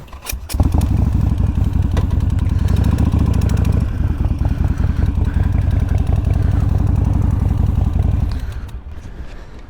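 Harley-Davidson motorcycle engine running close by, a loud, deep, steady rumble that starts abruptly, holds for several seconds and then fades, with no talk over it.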